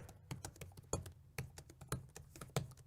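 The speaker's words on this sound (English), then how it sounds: "not annoying their neighbor with the clicking and clacking of the keyboard" Typing on the quiet keyboard of an HP Elite Folio convertible laptop: soft, muted key taps in an irregular patter, close but faint, with no talk.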